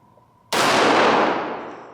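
One shot from a CZ 75 Tactical Sport 9mm pistol cracks out of near silence, loud and close, its sharp report ringing on and fading slowly over about a second and a half.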